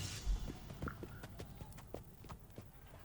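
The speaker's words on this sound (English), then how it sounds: "The two horses break into a trot." Horses trotting during a joust in the Crusader Kings 3 video game, a quiet, fairly steady patter of hoof clip-clops over a low background, with no voices.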